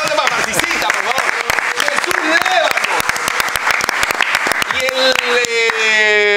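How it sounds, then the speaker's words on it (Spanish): Crowd at an awards ceremony clapping in brisk scattered applause, close and lively, while a voice talks over it throughout; the clapping thins out near the end as a sustained tone rises. "Marcisita, hija, un aplauso para Marcisita,"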